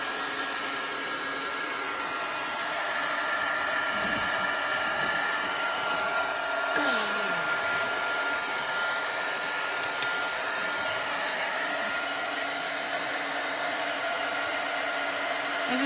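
A handheld hair dryer blows steadily to dry ink on a Chalk Couture transfer, a continuous close whooshing hum with slight shifts in pitch as it moves.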